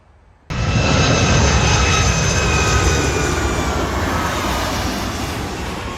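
A widebody airliner on approach to runway 24 at LAX passes low overhead near an In-N-Out, its jet roar bursting in abruptly and staying loud and broad before slowly easing off.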